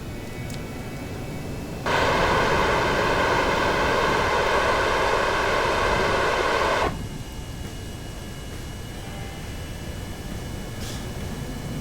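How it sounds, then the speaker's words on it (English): A jet engine on a simulated rocket roars as a steady, buzzy whoosh that switches on abruptly, holds at an even level for about five seconds, then cuts off over a faint background hiss. "it needs to have enough thrust ramped up. Jet engines take a while."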